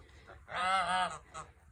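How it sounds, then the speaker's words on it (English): An afternoon rooster crows once in a short, honking call at moderate distance, followed by a brief softer note, outdoors beside a flower bed being mulched. "I have a very confused rooster. It is almost 3 o'clock and he thinks that it's the morning."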